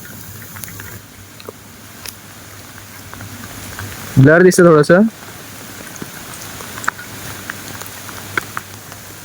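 Heavy monsoon rain in rural Palghar, Konkan, a continuous close hiss of dense rainfall patter that runs throughout, with someone briefly speaking over it partway through.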